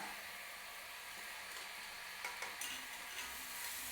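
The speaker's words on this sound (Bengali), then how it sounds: "এইবার দিচ্ছি দুটো লাল লঙ্কা" Two red chilies frying in a pan of spiced base for egg curry, giving a steady, soft sizzle with a few faint stirring scrapes near the end. No one speaks.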